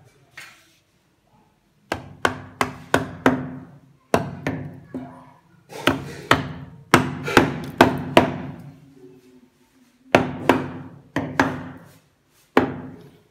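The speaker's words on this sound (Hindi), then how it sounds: "और फिर इस हथौड़ी से इसको अंदर ठोक देते हैं" A fitting is driven into place with a hammer during electrical work, heard as close, sharp repeated blows in quick bursts of three to six strikes separated by short pauses.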